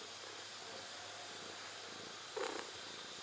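A cat purring softly and steadily against a faint, hissy background, with one brief louder rustle or chirp near the end and no talk.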